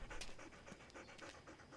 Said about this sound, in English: He's panting. Panting is a dog's way of keeping cool when it's hot.